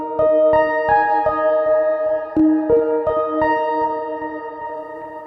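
A bright sampled synthesizer in a tape-based plugin plays a sequence of plucky, tonal notes in a steady rhythm, each struck cleanly and decaying, with no voices.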